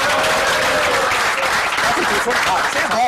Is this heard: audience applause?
yes